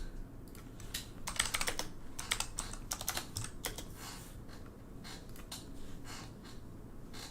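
Rapid bursts of keystrokes on a computer keyboard clatter close by in a podcast setting, coming in quick clusters over a low background hum with no talking.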